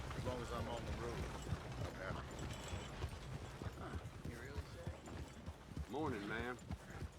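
Horse hooves clip-clopping along a road in Red Dead Online, with a wagon nearby, a steady trotting rhythm running through the whole stretch beneath frequent talk and a brief greeting from another voice.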